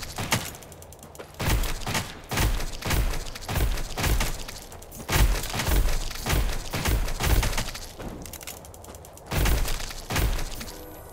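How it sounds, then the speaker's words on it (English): Shotgun blasts from the video game When the Light Dies: about a dozen loud, close booming shots at an uneven pace, some in quick pairs, with brief quiet gaps between. "We got shotgun now."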